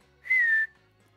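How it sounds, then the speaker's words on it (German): A single rising-then-falling whistle, like calling a dog named Rex, rings out clearly and briefly against a quiet room background. "dann muss ich wie nach dem Kommissar Rexhund einfach mal danach pfeifen."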